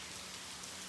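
Heavy monsoon rain pours steadily over Surat, a dense, even hiss of falling water with no breaks, moderately loud and without voices over the whole short stretch.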